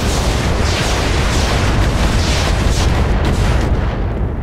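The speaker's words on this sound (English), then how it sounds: "Leave the laser off, fire everything else." Heavy barrage of video game weapons fire, lasers held back, in Roguepoint: a loud, continuous roar of overlapping blasts and rumbling booms filling the whole stretch with no let-up.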